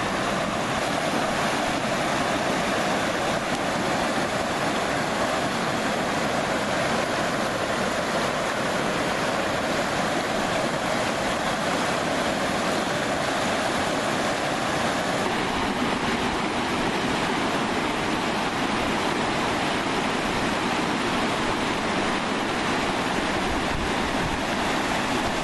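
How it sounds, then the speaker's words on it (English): A river at a swimming spot called Horses Heaven rushes over smooth stones in a broad, continuous wash of water noise, loud and unbroken for the whole stretch with no voices. "right now, we can just enjoy the sound of the river."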